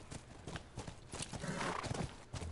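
Horse hooves clip-clop at a walking pace in The Last of Us Remastered, a steady, fairly close series of soft thuds over a busy game soundscape, with a brief whinny-like sound and no talking.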